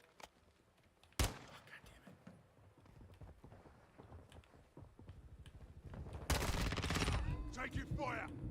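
Gunfire in a video game battle: a sharp single shot, then a dense, loud burst of rapid firing near the end, over a low background rumble.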